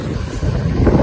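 Strong wind blows at the seaside, buffeting the microphone with a loud, steady low roar that swells slightly toward the end, with no voices.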